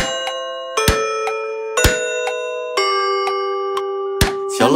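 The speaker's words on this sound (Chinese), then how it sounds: "四点钟声响" A clock in an animated children's song strikes four times, bright bell-like chimes ringing out at a steady pace, each tone sustained and overlapping over a sung melody.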